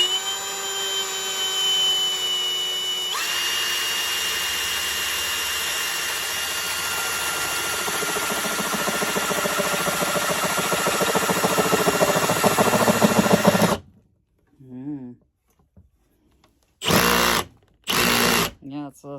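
A power drill fitted with a paddle bit bores into wood for a lamp build, a loud continuous whine that rises in pitch, then stops and is followed by several short bursts of drilling.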